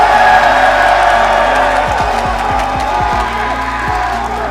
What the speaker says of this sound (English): You can hear the crowd support.